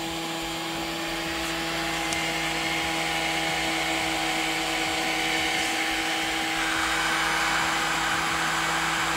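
Steady whirring of a Kingroon KP3S 3D printer's extruder and electronics cooling fans, with a constant hum and several tonal whines, running continuously at an even level with no voices.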